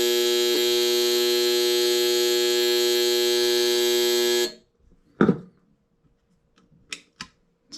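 The float alarm buzzer on an obsolete Clearstream control panel sounds as a loud, steady electric buzz for about four and a half seconds, then cuts off, leaving a few faint clicks and handling knocks.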